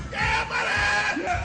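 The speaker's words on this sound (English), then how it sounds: "a gym full of muscleheads screaming" A gym full of muscular men screaming, several loud overlapping yells and bellows close by in a dense, continuous shout.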